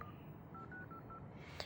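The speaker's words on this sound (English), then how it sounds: "I will call this phone number here." A short series of telephone dialing tones plays as a number is called from a cell phone, faint, with evenly spaced beeps and a brief louder click near the end.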